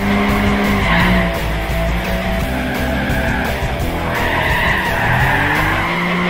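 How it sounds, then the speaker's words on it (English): Tires squealing as a car drifts in Gran Turismo 5 Prologue, a loud continuous skid with engine roar rising and falling throughout, steady and close with no pauses. "When drifting the cars on Gran Turismo Prologue, the techniques are actually very similar to real life as you'd expect."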